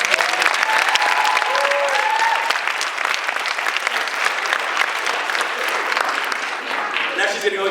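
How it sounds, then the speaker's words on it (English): Sustained applause from a festival awards audience, steady and dense clapping filling the room for several seconds, with faint crowd murmur underneath. "So again, another huge round of applause."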